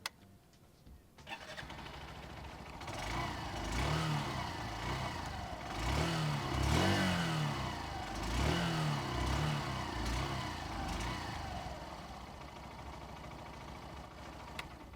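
A Honda Shine 100 motorcycle starts up and its engine is revved several times, with swelling and falling throttle blips over a steady idle, close and fairly loud, settling back toward idle at the end.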